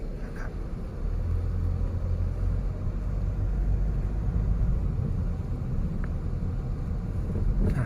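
Car engine rumbling steadily during a driving lesson in Thailand, low and continuous as the car pulls away after a turn, with some wind buffeting and no talk.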